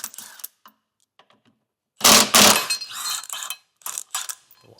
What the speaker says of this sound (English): Now we can move on to removing our recovery hook here.